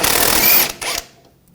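An 18mm socket spins a nut off the front axle of a 2000–2006 BMW X5, a loud buzzing power-tool whir close up that stops abruptly, with a brief second burst before quiet.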